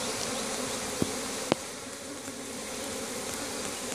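A swarm of honey bees clustered up in a tree hums in a steady, dense buzz throughout, with two brief clicks near the start.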